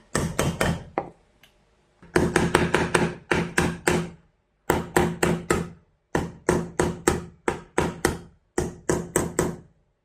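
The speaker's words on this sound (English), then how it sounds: "And hammer gently and equally." Repeated hammer taps close together on an AC fan motor housing during bearing replacement, loud and near, sounding in bursts of four to eight quick strikes separated by short pauses, with no talk.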